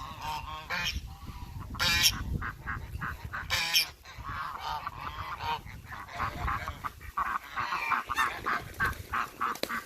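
Geese honking on a farm, loud repeated calls in close overlapping bursts, with a few quieter bird calls mixed in and steady farmyard background throughout.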